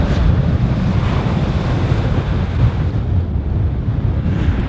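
Heavy sea surf and wind batter a wet camera on a boat during a lifeboat recovery, a loud, continuous roar of crashing waves and spray with gusting wind noise on the microphone.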